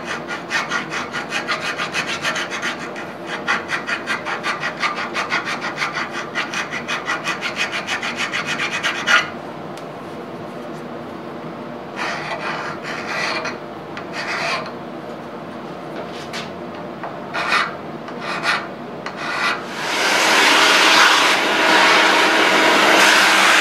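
A hand file rasps along a metal edge during a spindexer modification, coming as rapid rhythmic strokes, then as separate scraping bursts with pauses, and ending with a louder, brighter grinding stretch.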